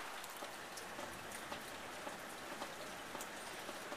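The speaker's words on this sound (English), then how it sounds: "It won't stop raining." Steady rain falling around a neighborhood yard, a soft continuous hiss with scattered faint drip ticks, even and unbroken throughout, no voices.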